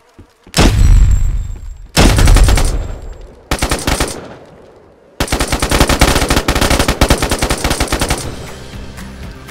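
Gunfire in DayZ: loud bursts of automatic fire, first two heavy booming volleys, then a short burst, then a long sustained rapid stream of shots close by, with no talk.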